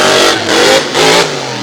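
A monster truck engine, tuned right before the Evansville 2020 show, roars loudly as it launches on the track, surging in two rising revs with a gritty, close, continuous growl.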